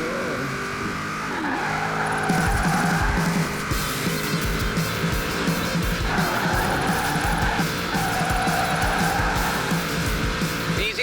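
A car drifting in Forza Horizon 4, its engine roaring steadily while the tires squeal and skid in long sweeping waves through tight turns, loud and continuous.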